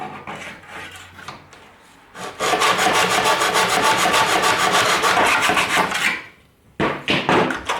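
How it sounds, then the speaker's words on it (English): A hacksaw cuts through a window screen frame for a flyscreen, a few light scrapes giving way to a quick run of loud, even back-and-forth strokes, then a brief pause and a couple more. "we're going to make our first cut with the hacksaw"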